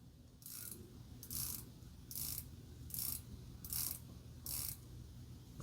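The bezel of a Seiko SLA037 dive watch is turned in six evenly spaced bursts of crisp, close ratcheting clicks, each lasting about a third of a second, over quiet room tone with no talking.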